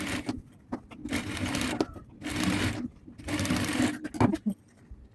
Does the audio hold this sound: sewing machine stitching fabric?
yes